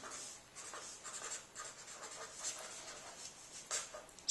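Pen or marker scratching across a surface while a number line is drawn, a faint, steady stream of short strokes with brief pauses, quiet and close with no one speaking.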